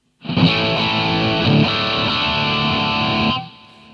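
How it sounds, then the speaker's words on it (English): Electric guitar played through a Boss GT100 with an overdrive pedal engaged, a loud, thick distorted chord ringing out for about three seconds before cutting off. "This is it with an overdrive pedal kicked in on top of it again."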